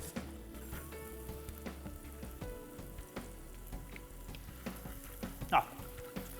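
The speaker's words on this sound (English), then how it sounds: "It's the rempeh or the spice paste is almost cooked." Vegetarian Malaysian laksa spice paste of garlic and onion frying in a pan, a continuous soft sizzle with scattered light stirring clicks and one sharper scrape near the end, close and moderately quiet.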